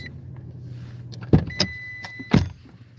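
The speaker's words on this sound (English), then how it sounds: "It knows when my door is ajar." A truck's door-ajar warning chime sounds inside the cab as a few bright, evenly spaced electronic tones, mixed with sharp nearby clicks and thumps over a low idle hum.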